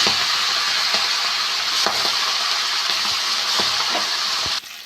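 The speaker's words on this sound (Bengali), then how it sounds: "মাথাগুলো আমি একইভাবে ভেজে নেব" Fish heads frying in hot oil in a home kitchen, a steady close sizzle with a few faint utensil clicks, cutting off abruptly near the end.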